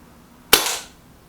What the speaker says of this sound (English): Last shot into the card of the mini target.